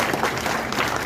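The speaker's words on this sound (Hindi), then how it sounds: "जोरदार तालियां बजाएंगे।" A crowd claps steadily at a protest rally; the burst of applause is brief, full and even throughout.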